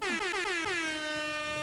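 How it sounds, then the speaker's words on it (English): An air horn sound effect fires from a podcast studio soundboard button, a loud blaring brassy blast with a stuttering start that settles into a steady tone for under two seconds, with no talking. "You have to do the air horn, Jaron."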